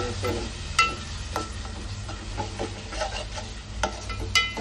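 Chicken pieces cooking in masala in a pan, a steady low sizzle with occasional clinks and scrapes of a stirring utensil against the pan.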